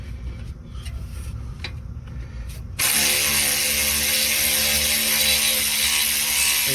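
A cordless electric ratchet spinning out a brake caliper guide pin on a BMW 5 Series front brake, first a few faint clicks, then a loud, steady close-up whir of the motor running continuously with no talk.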